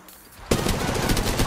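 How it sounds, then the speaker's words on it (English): Sudden close burst of rapid automatic gunfire from an enemy squad in Apex Legends Mobile, loud and sustained after a quiet moment. "Another squad is attacking us! They're shooting at me!"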